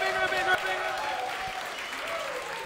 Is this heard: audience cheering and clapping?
yes